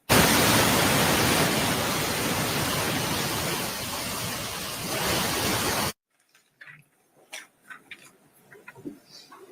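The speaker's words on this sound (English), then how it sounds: "Put the white noise on, ladies and gentlemen." Steady broadband white noise played in a courtroom during a Florida trial, loud and unbroken for about six seconds before cutting off abruptly into near silence with faint scattered knocks.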